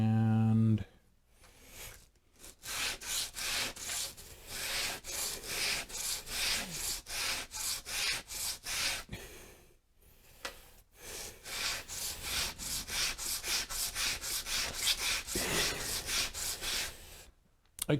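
Bent wood pieces sanded by hand, a rhythmic series of loud, rasping back-and-forth strokes that stops briefly and resumes, with someone talking over it.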